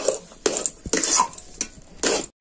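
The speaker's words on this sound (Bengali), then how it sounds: "আবার এটাকে আমি ভালো করে নেড়ে চেড়ে নেব, নুনটা যাতে ডোয়ের মধ্যে ভালো করে মিশে যায়।" A spoon stirs a stiff rice flour dough with salt in a pan, making several sharp scrapes and clanks against the metal in uneven bursts, close and loud with short pauses between strokes.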